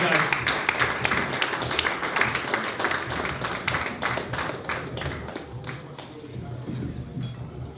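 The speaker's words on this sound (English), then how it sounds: "Give a round of applause, guys." Audience at a PFL Dublin fight press conference applauds, a dense burst of clapping that holds steady and then thins slightly toward the end, with some voices mixed in.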